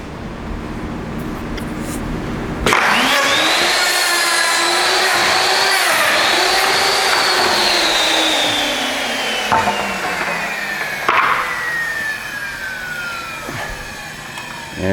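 A KVAL 950-3 auto hinge jamb router, running on 115 volt electric power, cuts hinge pockets in a door jamb. A loud, steady whining motor runs for about seven seconds, then its pitch slowly winds down, with clunks and mechanical knocks near the end.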